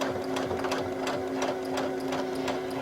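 A sewing machine stitches the hem of a stretch knit top, running in a steady continuous whir with a fast mechanical rhythm, close and alone.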